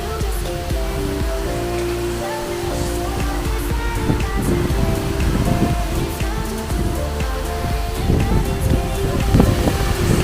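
Khandadhar waterfall, a high cascade whose falling water makes a constant loud roaring rush that stays steady throughout, heard up close with no speech.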